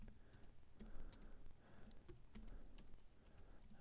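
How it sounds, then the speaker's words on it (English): Typing values into a new blank spreadsheet workbook on a computer keyboard: quick, close, irregular key clicks in short bursts with brief pauses, heard alone with no talk. "Okay, new blank workbook, and I'll just go ahead and type these in."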